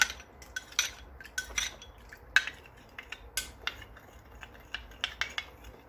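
A spoon stirring sütlaç mixture thinned with water in a pot, quick irregular metallic clinks and scrapes against the pot's sides, close and fairly crisp with no talking.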